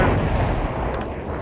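Battlefield V artillery fire rumbles as a heavy, low boom that decays over a second and a half, loud and close with no voices over it.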